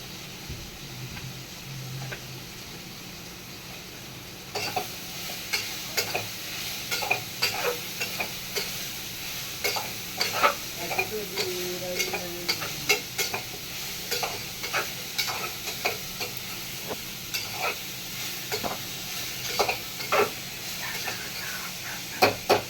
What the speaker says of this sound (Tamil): இப்போ முட்டைக்கோசை போட்டுக்கலாம். அதோட கொஞ்சம் மஞ்சள் பொடி போட்டு வதக்கணும்.